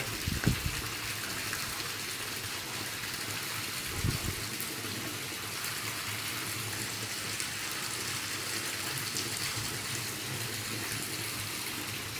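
Pumps move water while a 60,000-gallon pond is cleaned, giving a faint, steady rush of gushing water that runs throughout, with a couple of soft thumps early on.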